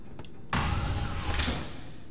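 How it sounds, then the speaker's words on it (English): A sci-fi door in the game Star Citizen, aboard a Freelancer ship, slides shut with a sudden loud whoosh and a sustained mechanical hiss, close and heard alone with no talk. "I can go to close this door if I wanted to"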